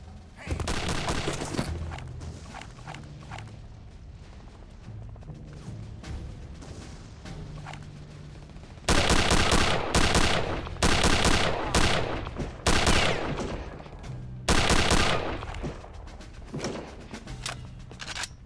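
Video-game gunfire from Return to Castle Wolfenstein rattles in rapid automatic bursts, loud and close, with pauses between heavy volleys and a few booming hits.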